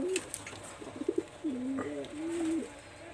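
A pigeon sitting on eggs gives soft, short coos followed by a couple of longer drawn notes, fairly faint and close, with someone speaking intermittently.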